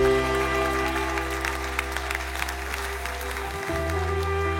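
A church congregation applauds steadily throughout, a dense, even wash of clapping sustained for several seconds over a continuous low organ or keyboard drone.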